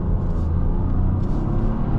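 A 2023 Toyota GR Corolla Core with a manual gearbox accelerates hard, its engine a loud, steady low rumble heard from inside the cabin with no talking.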